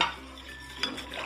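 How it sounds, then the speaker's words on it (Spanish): A spoon stirs corn empanada filling in a pot, making soft scraping clinks of metal against the pot with a faint background hum and no talking. "Pero no dejen de revolver"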